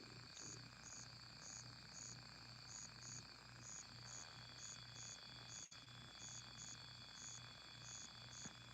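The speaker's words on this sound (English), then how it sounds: "I can hear my crickets." Crickets chirp at night in a quiet setting, a steady pulsing trill repeating evenly and sitting fairly faint in the background, with no voices.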